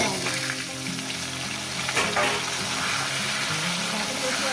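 Potatoes tossed into hot oil with panch phoron for a hilsa-head chorchori, giving a loud, bright sizzle that swells at the drop, then keeps frying steadily, with someone speaking over it.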